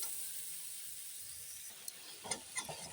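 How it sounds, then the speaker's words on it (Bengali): Green peas and ground spices fry in oil, a faint, steady hiss with a few soft stirring scrapes near the end. "এখন আমি মশলা দিয়ে দেবো আস্তে আস্তে একটু ভালো করে কষিয়ে নিই"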